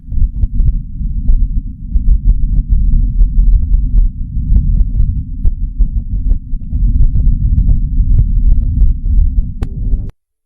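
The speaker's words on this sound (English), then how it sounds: "And here are some recordings captured by the Perseverance rover." Perseverance rover recording on Mars: a dense, low rumbling drone with faint irregular ticks and clicks scattered over it, steady for about ten seconds before cutting off abruptly.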